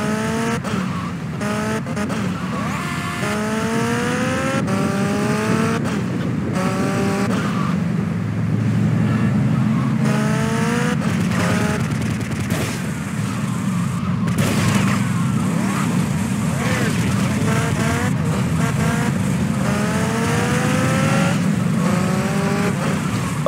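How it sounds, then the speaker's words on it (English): A car spinning out in GTA Vice City after a tire is shot, with engine drone and repeated rising tire squeals and skids, loud and close over a steady rumble. "I got one of his tires, that's why he's spinning out"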